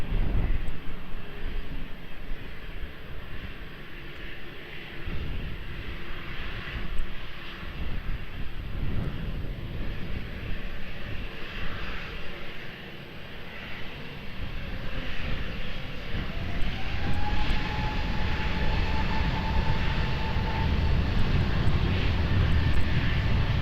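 An airliner lands on runway 20 at Lisbon Airport: a sustained, fairly close jet-engine roar, with a rising whine entering partway through and a deep rumble building toward the end.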